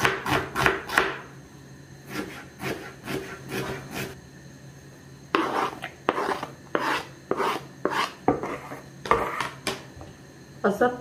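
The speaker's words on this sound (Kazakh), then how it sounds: "Және де бір пиязды майдалап уақтап турап қосып саламын." A knife rapidly and finely chopping onion on a board for a cabbage-roll filling. The close, irregular bursts of strikes are separated by brief pauses.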